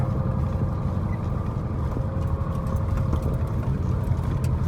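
A truck engine rumbles steadily at a sugar beet factory, a continuous low drone held at an even level throughout, with no talking.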